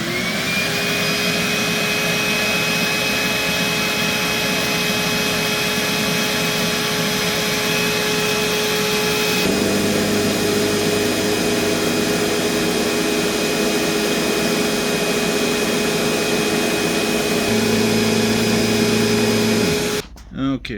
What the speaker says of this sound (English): Switch this on.